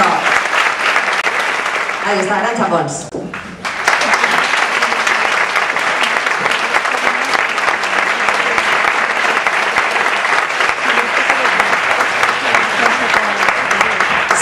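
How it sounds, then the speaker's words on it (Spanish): A crowd at the Premio Sona 2010 awards in Xirivella, Valencia, applauds Arantxa Pons for the female breakthrough artist prize. A host speaks briefly before a short lull, then loud, steady clapping continues unbroken for about ten seconds. "Un fuerte aplauso."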